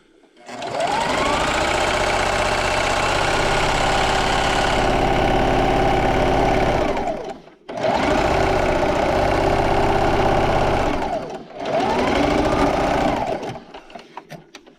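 A sewing machine runs a straight stitch through placemat fabric at a 2.5 stitch length, with a steady whirring motor in three long runs separated by brief pauses and a short back stitch at the start, heard close and alone.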